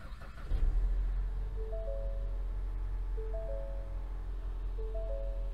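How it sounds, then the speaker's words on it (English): A Ford Mustang's 2.3L EcoBoost engine cranks with a short burst, then settles into a steady, close low rumble. Soft repeating chime tones sound over it. "I'll go ahead and start the vehicle"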